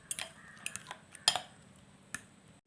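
A fork stirs ingredients together, making quiet, irregular clinks and taps with light scraping between them, close by and with no talk.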